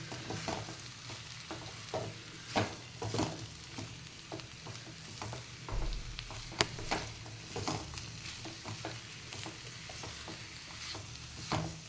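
Bitter gourd (karela) sabzi sizzling in a pan while being stirred, steady frying hiss punctuated by repeated scraping and clinking strokes of a spoon, close and alone with no voice.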